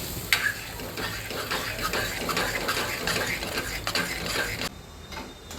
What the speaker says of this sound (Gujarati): ધીમા ગેસે આપણે આવી રીતે લોટને ચલાવતા જવાનું.